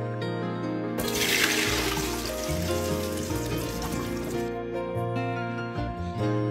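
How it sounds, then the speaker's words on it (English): Rice washed in a pot of water, with steady sloshing and running water splashes, continuous and close, with a faint hum beneath. "I'm washing the rice 2 times."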